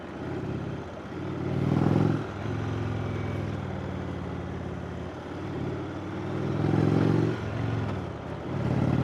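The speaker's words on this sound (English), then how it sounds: "bike coming by the way" A motorcycle on Wrynose Pass in the Lake District passes nearby, its engine swelling twice and easing between, a steady mid-distance drone with no talking over it.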